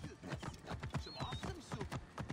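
Horse hooves clip-clop in a steady rhythmic gait in Assassin's Creed Origins, moderately loud and continuous, with a brief high tone and faint game sounds over the top.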